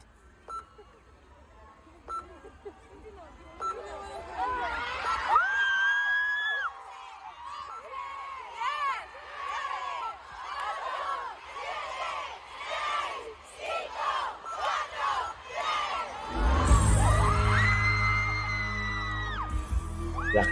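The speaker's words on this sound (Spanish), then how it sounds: "La gente como grita." A concert crowd at a pop show screams and cheers in long, shrill waves of high-pitched shrieks, building and fading across the stretch, heard distant and blended with stage sound.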